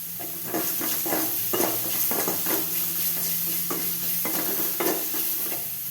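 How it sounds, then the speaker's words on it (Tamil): Ground Indian gooseberry (amla) being lightly sautéed in a pan, with a steady sizzle and repeated scraping stirs at an irregular rhythm, close and fairly loud, no talking. "அந்த அரைச்சி வச்சுருக்க நெல்லிக்காயை எடுத்து அதில் கொட்டி லைட்டாக வதக்கணும்"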